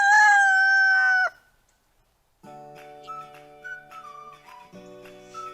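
A rooster crows loudly once with a long, drawn-out call, followed by a pause and then softer whistling and tonal sounds.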